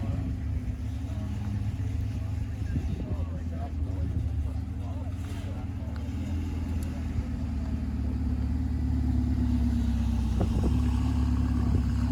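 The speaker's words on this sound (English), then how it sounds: "the TVR is leaving us too" A TVR sports car pulls away at a Goodwood car-show breakfast meet. Its engine gives a continuous low rumble that holds steady and swells slightly near the end.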